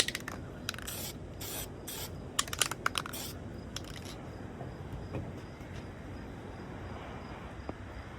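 Spray primer hissing from a can in short repeated bursts onto plastic and resin parts for a third coat, close and sharp with pauses between passes, over faint background noise.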